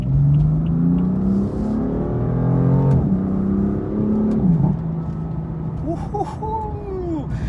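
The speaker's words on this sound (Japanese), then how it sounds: "今日はBMW の運転中ですね。 M4 ですね。 でも音が最近ね良くなりましたよ。" A BMW M4 engine hums steadily while driving, with rising and falling revs as it shifts through gears, heard close from inside the car.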